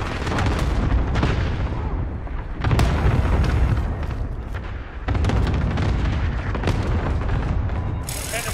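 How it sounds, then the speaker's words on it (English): Series of heavy booming cluster-strike explosions in Call of Duty: Modern Warfare, loud and dense with repeated impacts and rumbling bursts across the whole stretch, set amid game combat noise. "Allied cluster strike incoming."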